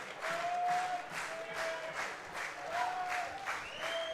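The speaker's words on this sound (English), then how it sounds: "Fans clapping along here to try and help Fernando Fernandez through the top of the fifth." Baseball fans in the stands clap together in a rhythmic, steady beat during a playoff finals game between the Toronto Maple Leafs and London Majors, distant and moderately loud with a faint crowd hum.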